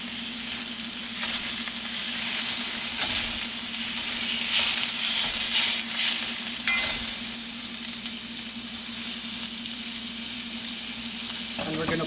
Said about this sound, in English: Our quinoa is starting to boil